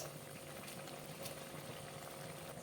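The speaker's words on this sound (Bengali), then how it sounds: "দিয়ে দিলাম অল্প জল ঝোলটা ফুটে গেছে" Curry gravy for a giant freshwater prawn curry boils in a pan with a faint, even bubbling hiss that runs without a break.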